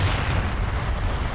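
A deep, rumbling explosion in the video game TimeSplitters: Future Perfect roars loudly and fills the whole moment, a dense low boom with no voices.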